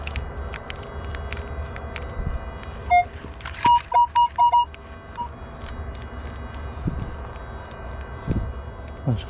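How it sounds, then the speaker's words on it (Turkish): A metal detector gives a short series of clear electronic beeps, about five quick tones in a row, heard over faint outdoor rustling and footsteps. "Dedektörü çalıştıralım."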